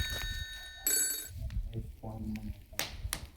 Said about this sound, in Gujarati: ફોન આવે?